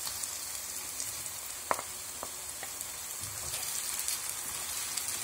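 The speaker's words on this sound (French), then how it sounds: "dans une poêle qui est chauffée avec de l'huile, je mets les oignons. Je laisse bien revenir" Onions and peppers frying in hot oil in a pan make a steady, hissing sizzle throughout, close and even, with a few faint pops.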